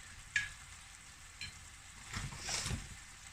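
Mango chicken cooks in a pan with a faint, steady sizzle and bubbling, broken by a couple of light clinks and a soft stirring scrape near the end.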